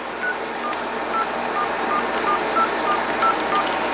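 A series of about ten short telephone keypad tones beeps in quick succession over a low background hum as an AT&T SynJ SB67118 phone dials.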